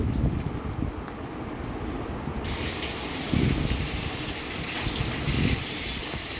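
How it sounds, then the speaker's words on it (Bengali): Bata fish frying in hot oil until reddish, giving a loud, steady, dense sizzling hiss close by with no voices. "বাটা মাছটাকে বেশ লাল করে ভেজে তুলে নিচ্ছি"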